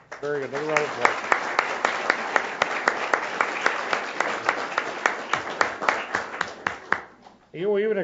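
An audience at a school board meeting claps steadily for about seven seconds, with distinct individual claps heard within the rhythmic applause. It stops abruptly, and a voice starts talking.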